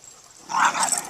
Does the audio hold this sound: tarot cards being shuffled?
no